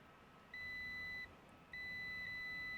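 Two sharp electronic beeps from a multimeter on continuity test while checking car fuses, each about a second long, separated by a short gap over faint background hiss.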